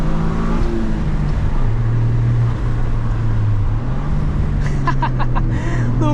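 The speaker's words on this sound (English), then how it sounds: "Little freaking rally car" A 2024 Toyota GR Corolla engine drones and shifts pitch as it revs on a winding mountain drive, heard from inside the car with road noise underneath and a brief rise in revs near the end.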